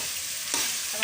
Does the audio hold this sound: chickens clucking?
no